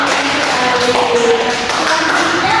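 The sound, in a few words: applause for a student in class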